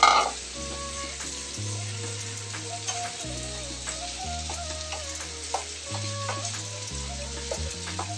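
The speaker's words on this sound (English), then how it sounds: "Add the chickpea now." Chickpeas tipped into a hot curry pan with cooked-down ingredients set off a steady sizzle and frying hiss, with occasional stirring knocks, all under continuous background music.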